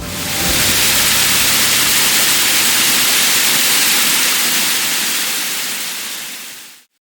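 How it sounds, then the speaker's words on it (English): A waterfall at West Point Foundry pours in a steady, dense hiss and roar, loud and close, unbroken for about seven seconds before cutting off abruptly. "You get treated to a waterfall"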